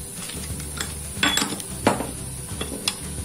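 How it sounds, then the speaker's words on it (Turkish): A utensil stirs yogurt, baking powder and oil together in a bowl for Turkish corn bread, making soft scraping swirls with a few light clinks against the bowl, close and fairly quiet over a low background hum. "güzelce bir karıştırıyoruz"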